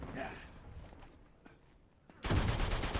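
Rapid gunfire in Uncharted 2's Turf War multiplayer erupts after a quiet stretch, a loud, sustained barrage filling the last second.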